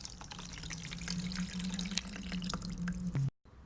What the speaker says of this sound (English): So we are going to put 300 grams of water.